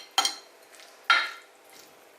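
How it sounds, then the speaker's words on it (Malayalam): Hot oil left from frying bajji is poured into chutney and stirred: two sharp, close sizzling bursts about a second apart, each fading quickly, with a third starting at the end, and no talk. "ആ എണ്ണ ചൂടോടുകൂടി തന്നെ ഇതിൻ്റെ അകത്തോട്ട് ഒഴിക്കണം."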